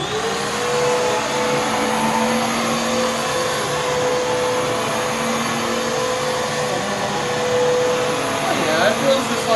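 A vacuum cleaner runs steadily during an airflow suction test comparing a new Bissell and an old Hoover, a loud continuous whine with a sustained motor hum and airy rush, close to the microphone.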